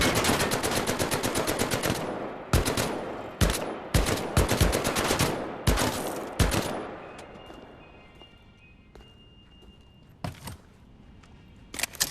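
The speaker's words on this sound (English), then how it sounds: "The MP-40, a deadly German submachine gun." MP-40 German submachine gun firing in Medal of Honor, played in virtual reality: several close, loud rapid bursts of full-auto fire with short gaps between them, then quieter scattered single shots amid faint mechanical clicks.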